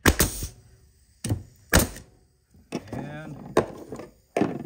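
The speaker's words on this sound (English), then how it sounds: "our nail gun is back working. Nail went through the board." A pneumatic air nail gun, just repaired after air leaking from its trigger assembly, fires sharp loud thwacks driving nails through a wooden board, several separate bangs with short talk between them.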